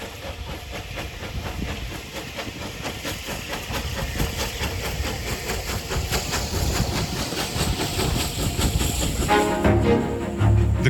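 A steam train runs on the Great Central Railway, a double-track mainline heritage line in the UK, with steady rhythmic clatter and chuffing that builds in loudness and comes close near the end, with no voices.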